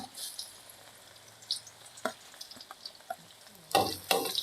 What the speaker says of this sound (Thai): ผัดกระเทียมให้ส่งสีหอมแล้วกันครับ